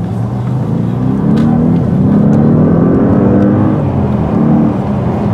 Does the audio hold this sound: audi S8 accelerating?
yes